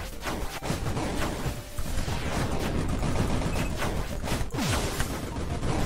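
Rapid bursts of gunfire from a gun in the video game Monolith, dense crackling shots layered over a constant noisy game background, fairly quiet and continuous with no talk.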